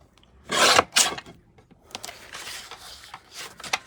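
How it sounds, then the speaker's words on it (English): Paper sliced on a guillotine paper trimmer at a craft table, with two quick, loud swishing cuts near the start followed by softer rustles and scrapes of handling the sheet, close by and without speech. "So let's trim that down to bring my guillotine because I like that."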